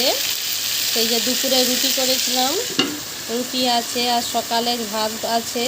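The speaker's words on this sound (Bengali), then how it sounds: "এই যে আমি এখন আলু ভাজছি" Potatoes frying in a pan in a home kitchen in the evening, a steady sizzle and crackle running underneath a voice talking the whole time.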